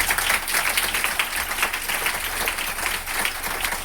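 A crowd at a talk or seminar applauds with dense, continuous clapping that stays fairly loud and even throughout the short stretch.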